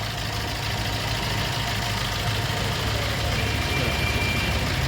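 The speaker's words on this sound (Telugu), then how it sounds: "ఇంజిన్ స్టార్ట్ చేశాను" A car engine idles with a steady rumble during a decarbonisation process, continuous, loud and close, with a constant low drone throughout.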